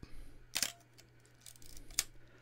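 A 35mm film camera shutter fires at 1/30 second, a quiet crisp double click, open and close about a tenth of a second apart, followed by a second firing a moment later, close up in a still room.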